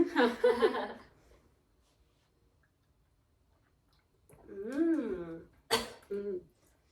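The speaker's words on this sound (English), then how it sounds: "I accidentally breathed it in a little, so that's why I coughed." A woman coughs in a brief burst after accidentally inhaling a celebratory drink during a toast at home, then goes quiet before talking resumes.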